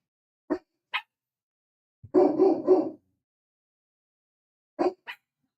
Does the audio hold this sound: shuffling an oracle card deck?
no